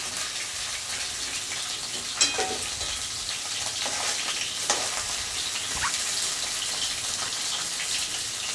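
Bhetki fish bones frying in a pan give off a steady, close hiss with faint crackles and a few scraping stirs, and no voices are heard.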